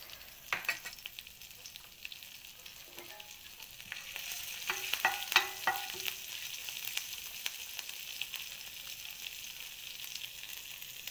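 Ginger and garlic sizzle in hot oil for a Kerala-style fish fry masala: a soft, continuous frying hiss broken by a few clinks and scrapes of stirring, fairly quiet and close, with no talking.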